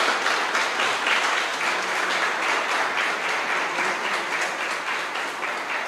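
A church congregation applauds, dense continuous clapping from many people filling the room at an even, strong level throughout.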